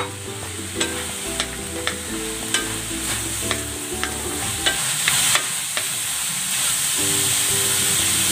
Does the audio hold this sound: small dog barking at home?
no